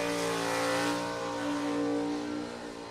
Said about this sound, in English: The car was just off and on the throttle